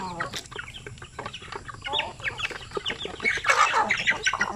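Native chickens cluck and chirp busily nearby, including a hungry mother hen. The calls come in dense, overlapping bursts that grow louder toward the end.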